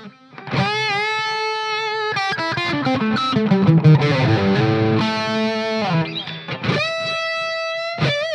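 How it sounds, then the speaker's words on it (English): Sustained electric guitar chords and melodic notes through a delay effect ring out with repeating echoes trailing behind them, a distorted tone filling the space, with a brief pause partway through. "Put the delay on."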